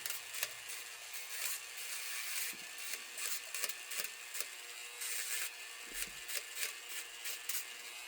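Dremel rotary tool trimming the edges of a bird's beak in short repeated bursts of dry scraping and grinding, close and fairly quiet, with brief pauses between passes.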